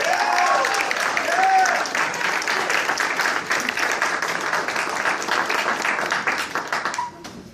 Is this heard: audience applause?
yes